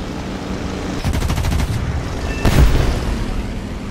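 Rapid bursts of gunfire rattle over the droning engine of a Stuka dive bomber, with a heavy boom landing midway; dense, loud combat sounds from War Thunder.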